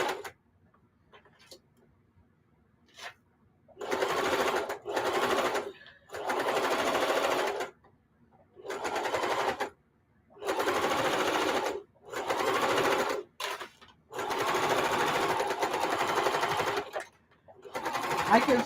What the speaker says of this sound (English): Those of you who have lighter machines, lighter in weight, if they won't sew through all these thicknesses